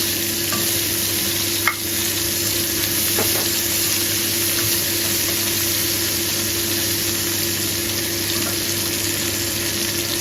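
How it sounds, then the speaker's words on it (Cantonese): Chopped shallots hit a pan of pan-fried chicken wings for Cantonese braised wings with potato. The result is a steady, close, dense sizzle throughout, with a single brief clatter early on and no talking. "跟住咧就放啲紅葱頭碎過去"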